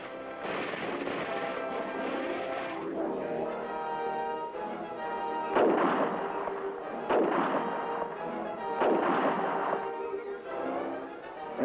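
Heavy artillery fire during a military field exercise, a sustained roar with several heavy booming blasts every second or so, distant and rumbling, with no voices.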